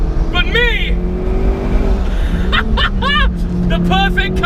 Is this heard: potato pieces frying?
no